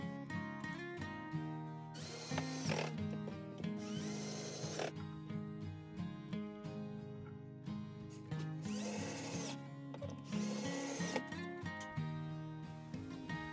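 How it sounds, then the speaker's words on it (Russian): A power drill spins a large-diameter masonry bit, used as a countersink on wooden boards for a small step stool, in repeated loud whirring bursts of one to two seconds with pauses between them. No voices. "В роли зенкера у меня сегодня сверло по бетону большего диаметра."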